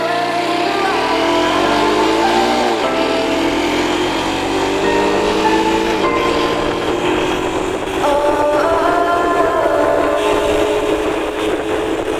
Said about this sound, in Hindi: हल्का से एक एक्सेलरेशन टेस्ट करेंगे यहाँ पे